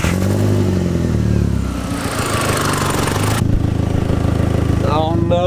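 A car engine with an exhaust downpipe leak revs and idles up close, a loud rough rumble with raspy clatter throughout, briefly shifting in tone midway, and a voice at the very end.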